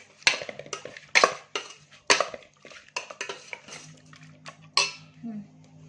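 Utensils clatter in a metal pot as mutton is mixed with ginger, garlic and coriander paste, with a spoon giving several sharp, uneven scrapes and clinks, close and fairly loud, and a low steady hum underneath.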